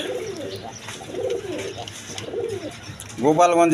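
A pair of big deshi golla pigeons from Gopalganj coo in a repeated rhythm of three soft, rolling calls, close by, followed by a louder, busier burst at the end.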